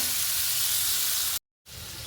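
Potatoes fry in hot oil in a pan, giving a close, steady sizzling hiss that cuts out for a moment, then resumes with no voices.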